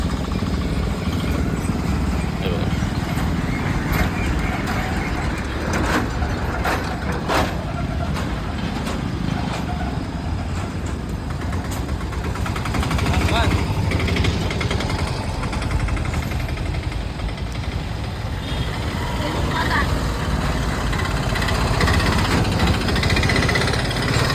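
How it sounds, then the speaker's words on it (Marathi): Congested road traffic on the Dapoli-Khed road in the Dasturi area, a dense continuous rumble of car and truck engines idling and moving nearby, with occasional louder passing vehicles. "थोडी ट्रॅफिक झालेली आहे."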